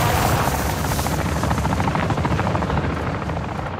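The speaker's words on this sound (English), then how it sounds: "A cargo helo has entered the airspace." A cargo helicopter flies overhead in Call of Duty: Modern Warfare II, its loud, dense rotor chop pulsing steadily throughout and fading slightly toward the end.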